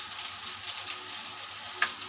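Chicken pakora sizzles steadily in hot oil, a constant close frying hiss with one brief sharper pop near the end.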